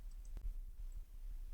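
Faint, sparse clicks of fingers typing a command on a computer keyboard, with one sharper keystroke standing out over a low, quiet room hum.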